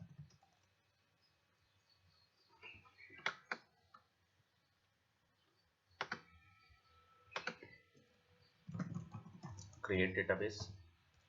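Keyboard keys clicked in short bursts while entering a command to create a database in MySQL Workbench, the quick taps clustered in a few groups with quiet gaps between them and a low voice murmuring.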